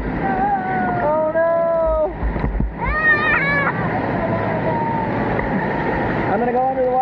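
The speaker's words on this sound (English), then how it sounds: "Oh, no. It's the waterfall." At the Adventure Landing water park, a ride's waterfall splashes and rushes in a loud, steady roar while riders shout and call out over the water.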